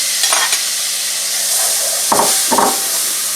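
Onion goes into a dark roux for New Orleans style shrimp étouffée, giving a loud close hiss and sizzle with a couple of scraping stirs of the spoon through the pan.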